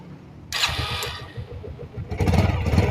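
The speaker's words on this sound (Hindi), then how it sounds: "एक शॉट में ये बाइक स्टार्ट भी हो गया" A Bajaj Pulsar 150 motorcycle cranks on its electric self-start and catches almost at once, then settles into a loud, steady idle with a rising rev toward the end. No one speaks.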